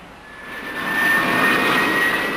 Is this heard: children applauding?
no